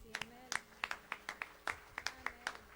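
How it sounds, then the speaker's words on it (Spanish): A church congregation claps in praise of the Lord, a steady rhythmic beat of roughly sixteen sharp hand claps, fairly quiet and slightly distant, with a faint voice underneath. "un aplauso grande al Señor"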